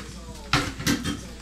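Red, orange and yellow bell peppers dropped into a cooking pan, two quick clattering impacts close by, a brief sizzle-like burst following each.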